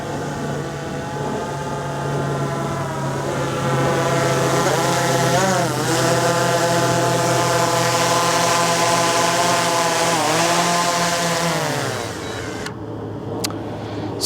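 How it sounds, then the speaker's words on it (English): A DJI Mavic 3 drone flying in to land, its propellers giving a steady whining buzz that holds, wavers and rises as it comes closer, then cuts off abruptly near the end. "I'm gonna hit stop and bring the drone in."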